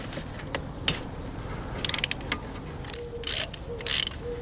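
A wrench loosening a size 10 bolt on a Suzuki V-Strom 800 motorcycle, heard as scattered close metallic clicks and short ratcheting bursts with quiet gaps between them.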